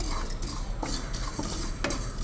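Sesame seeds dry-roasting over low heat in a kadai, stirred with a spoon that scrapes and taps the metal now and then over a soft, continuous rustle, close by.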